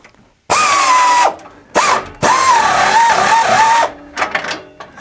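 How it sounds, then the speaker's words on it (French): Pneumatic impact tool on an engine mount bolt, spinning freely: three loud whirring bursts with a steady high motor whine that dips and wavers, separated by short pauses, ending in faint clatter. "j'ai finalement réussi à mettre en place mon outil pneumatique"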